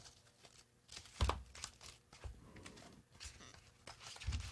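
Tarot cards being shuffled by hand, a few crisp riffling and papery crinkling bursts with soft taps between them, close and fairly quiet.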